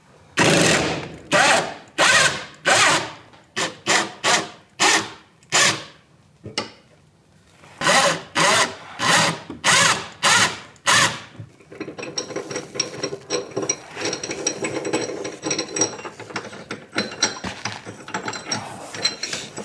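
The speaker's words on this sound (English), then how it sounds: "Now I just have to remove those 2 bolts and we will be ready to drop it." Tools loosening the rear subframe bolts on a BMW E46: a fast run of loud, close ratchet or impact bursts in regular pulses, a brief pause, another rapid series, then a steady whirring mechanical rattle to the end.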